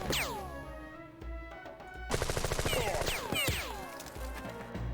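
Gunfire in the game Jagged Alliance 2, a series of loud sharp shots with ringing whooshes and tails, then a rapid burst of automatic fire in the middle, all up close.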